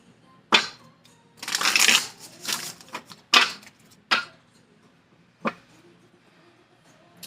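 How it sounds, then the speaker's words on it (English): Tarot cards being shuffled by hand, giving a series of papery riffles and snaps in irregular bursts, close and fairly quiet with short pauses between handlings. "All right, one more shuffle."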